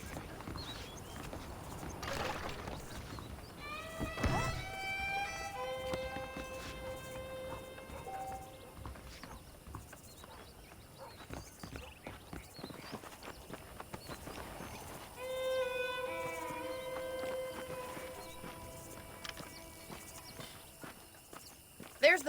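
Horse hooves clip-clop at a steady walk while riding in Red Dead Redemption, moderately close, with people talking over the steps throughout.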